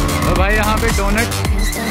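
A modified NS-series motorcycle doing a donut: its engine revs and wails loudly in rising and falling sweeps while the tires squeal and skid, very close.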